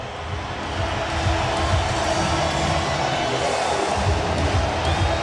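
Baseball stadium crowd at an MLB National League Wild Card game, Braves vs Padres, rising into a steady loud roar of cheering with two strikes and two outs, a dense continuous wash of voices that swells slightly and holds.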